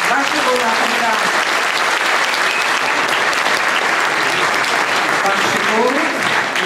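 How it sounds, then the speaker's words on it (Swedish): A crowd at a sports association awards gala applauds loudly and steadily throughout, a dense wash of clapping with a few voices faintly audible underneath. "Varsågod, applåder."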